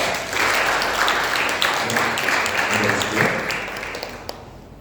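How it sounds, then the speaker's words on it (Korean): Church congregation gives a big round of applause to welcome visiting members during a Sunday worship service, steady broadband clapping filling the room for several seconds before tapering off. "잠깐만 일어나 주시면 큰 박수로 환영하겠습니다."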